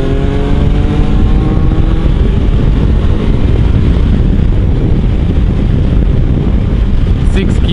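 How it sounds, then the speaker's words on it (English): Loud, constant wind roar buffets the helmet of a rider cruising in sixth gear at about 80 on a Kawasaki Versys-X 300 motorcycle, a dense rumble that fills the whole clip with no break. "The wind is hitting me about mid-visor, but it really protects you from the wind."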